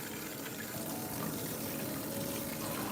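Hair combs and brushes are rinsed under a running tap, a steady, close, full rush of water that continues without a break.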